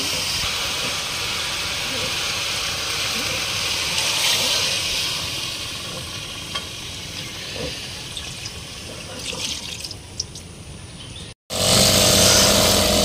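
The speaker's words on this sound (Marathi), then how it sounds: "तोपर्यंत आपण थोडंसं ग्रास कटर मशीन आणले. तोपर्यंत गवत थोडं कटिंग करून घेऊया." A grass cutter machine trims grass on a farm, a steady loud motorized whine with hissing broadband noise running almost continuously, briefly cutting out near the end before resuming strongly.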